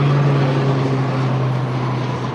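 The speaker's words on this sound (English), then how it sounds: "Those are water planes." Propeller seaplanes fly over Lake Billy Chinook, a loud, steady low engine drone with a strong humming tone that fades only slightly over a couple of seconds.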